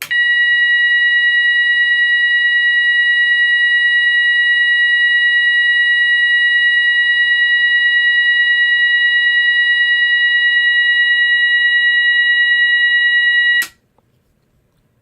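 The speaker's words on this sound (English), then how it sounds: "First tone is 970 hertz continuous tone." A GE AS363 signal sounds a loud, piercing 970 hertz continuous alarm tone, holding perfectly steady for about thirteen and a half seconds before cutting off abruptly into silence.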